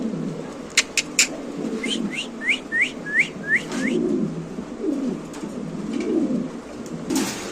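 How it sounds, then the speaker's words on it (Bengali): Bombay exhibition pigeons at a pigeon farm give a quick run of rising whistled coos in a row, fairly close, over low background murmur and a few sharp clicks. "এখানে আছে এক এক্সিবিশন কবুতর আপনারা দেখতে পাচ্ছেন"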